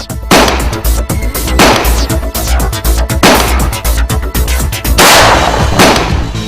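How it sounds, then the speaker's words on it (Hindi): Gunfire in a Sindhi drama scene: several heavy, booming bursts about every one and a half seconds, loud and close, with other noise filling the gaps and no talk. "फायरिंग का दौरा"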